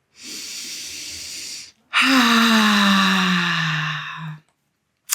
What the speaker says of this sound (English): With your exhale, you make a ha sound like this.